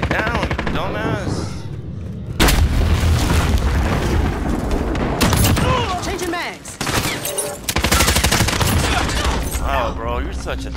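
Gunfire and explosive booms in Call of Duty: Modern Warfare multiplayer, loud and dense across an urban map, with players talking over the shooting throughout.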